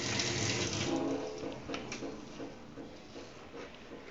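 Tap water running into a sink while dishes are washed, a steady rushing stream loud at first and easing slightly, with faint clinks and no talk.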